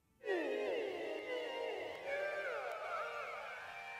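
Alien-like synth pad with the low end filtered out and heavy reverb, swelling in suddenly then sustaining with gliding, warbling tones that shimmer and slowly fade in a wide wash; no talking.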